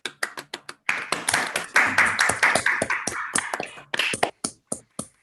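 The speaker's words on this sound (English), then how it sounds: "Let's give Joseph a round of applause." A lecture audience at a mathematics talk gives a round of applause, a close, dense burst of clapping that starts with a few scattered claps and then tapers into separate claps.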